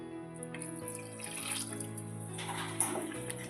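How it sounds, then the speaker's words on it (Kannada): Water being poured into a pot of village-style drumstick sambar, a steady, moderately close pouring and splashing sound that lasts throughout, with a faint tonal hum underneath and no talking. "ನೀರು ನಿಮ್ಗೆ ಎಷ್ಟು ಬೇಕಲ್ಲ ನೋಡಿಕೊಂಡು ಹಾಕೋರಿ"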